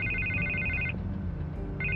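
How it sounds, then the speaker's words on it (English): A telephone rings in the Batman Telltale video game, a loud, steady electronic trill that keeps going, breaks off briefly, then starts again, heard alone with no talk over it. "I can't get the phone to stop ringing."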